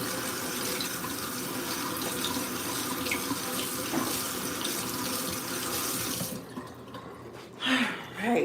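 Kitchen tap water runs steadily into a sink as something is rinsed off, a constant close splashing hiss for about six seconds before the flow cuts off, followed by a few faint drips and handling sounds.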